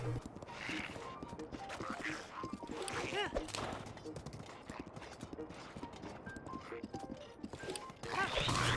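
Horse hooves clip-clop in the video game Breath of the Wild as a horse moves slowly along a narrow passage, a steady rhythmic trot mixed with game music and a brief whinny.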